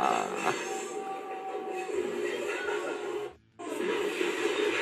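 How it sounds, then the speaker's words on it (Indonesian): A train runs on railway tracks in Indonesia, a steady broad rumble with a faint tonal whine. It stays close and continuous, drops out briefly near the end, then returns. "Detik-detik gerobak seorang bapak tertabrak kereta api di daerah Gantung"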